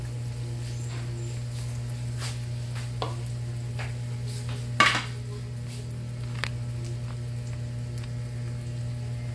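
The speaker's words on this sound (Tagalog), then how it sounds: "Continue stirring this para hindi siya masunog" Onions and crushed garlic being stirred and sautéed in a pan, a steady close sizzle with occasional scrapes and clinks of a utensil against the pan, no talk.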